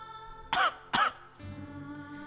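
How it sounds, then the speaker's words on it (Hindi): Two sharp, close coughs in quick succession, followed by a quiet background hum. "थोड़ा पानी पी लीजिए, खांसी नहीं आएगी।"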